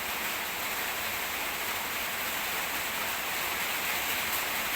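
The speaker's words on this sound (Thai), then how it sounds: "ฝนตกเริ่มแรงแล้ว" Heavy rain pours steadily during a rainy-season storm, a dense, continuous hiss of moderate loudness with no breaks or voices.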